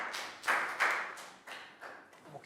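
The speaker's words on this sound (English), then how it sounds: "Big round of applause for Nadia" A Year 3 classroom gives a round of applause to a student, several short bursts of children clapping close by, uneven and tapering between claps.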